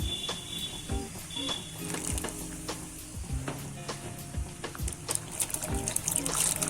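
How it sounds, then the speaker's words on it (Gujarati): Cut papaya pieces dropped into a pan of hot water while making tutti frutti, giving close sizzling and bubbling with repeated clinks and stirring knocks throughout, and no voices. "આપણું પાણી ગરમ થઈ ગયું છે, હવે આપણે તેમાં નાખી દેશું પપૈયું કટિંગ કરેલું"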